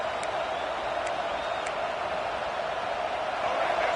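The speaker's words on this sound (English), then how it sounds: "this crowd is fired up. Listen to this noise here." A large college football stadium crowd roars steadily with a constant wash of cheering and noise, with a few sharp whistles standing out early on.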